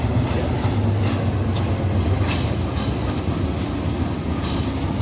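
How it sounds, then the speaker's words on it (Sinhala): Trains running on rail tracks at a small Sri Lankan station near Meeyan Ella, with a steady loud rumble of wheels and carriages rolling past throughout and faint clicking and squeal over the tracks. "දෙපැත්තෙම කෝච්චි දෙකක් එනවා."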